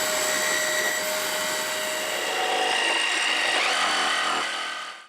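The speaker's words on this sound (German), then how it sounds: "da bohre ich jetzt ein Loch rein und mit der Stichsäge schneide ich dann das Loch daraus." Power tool buzz as a jigsaw cuts a hole into a wooden board, a steady, loud rasping drone that shifts in pitch midway and then winds down and stops.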